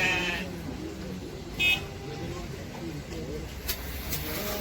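Merino lambs and sheep at a livestock market near Shamalgan station, Almaty, give short bleats near the start and again in the middle, mixed into a busy crowd where people talk throughout.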